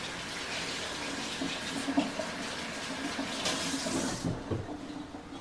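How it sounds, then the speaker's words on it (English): Hands are rinsed under a running kitchen tap: a continuous close rush of water with small splashing shifts as the hands move, stopping near the end. "let me wash my hands real quick"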